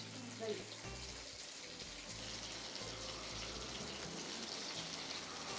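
Fish fries in homemade palm oil with a continuous, soft sizzling hiss at low level, steady and unbroken through the whole stretch.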